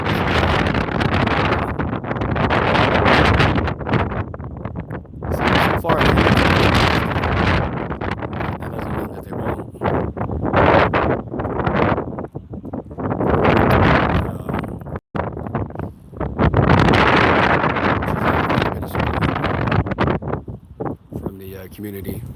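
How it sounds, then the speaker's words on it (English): Strong gusty wind buffets the microphone throughout, roaring in broad bursts with brief lulls, with no other clear sounds above it. "sorry it's windy, guys"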